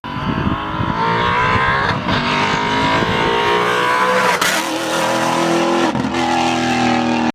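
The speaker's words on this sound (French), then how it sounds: "ce V8 qui hurle à quelques centimètres de moi" Maserati GranTurismo Trofeo V8 roaring on a race track, a loud, continuous close-up engine howl with rising pitch through gear changes, no talking.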